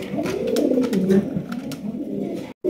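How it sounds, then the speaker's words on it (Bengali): A pair of large Giribaz pigeons coos steadily and up close, a soft, throaty rolling murmur that runs almost without a break, then a brief silence near the end. "দর্শক এখানে রয়েছে একজোড়া গিরিবাজ কবুতর"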